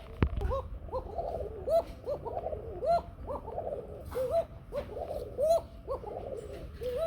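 A pair of kuka pigeons cooing repeatedly, rhythmic rolling coos in close succession from nearby birds, after a brief sharp knock at the start; no talk.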